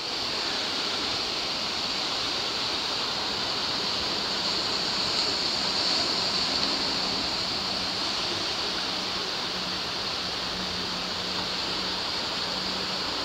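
Water splashing and rushing at a small water park, a steady, dense wash of spray and falling water that continues evenly and fairly close throughout, with no voices over it.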